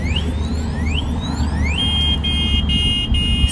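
An electric bike's anti-theft alarm shrieks loudly with rising electronic sweeps that settle into a sustained high siren tone over a low background rumble.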